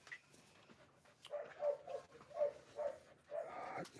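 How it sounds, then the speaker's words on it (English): A dog gives a series of short, moderate barks and yips close by, spaced irregularly with brief gaps. "I don't know why he's barking."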